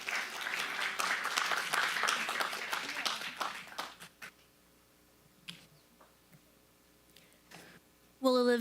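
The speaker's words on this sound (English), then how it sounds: "Let's give her another round of applause." Applause from an audience at a Sutter County Board of Supervisors meeting fades out over the first few seconds, leaving a few scattered claps in a quiet room, with a voice starting at the end.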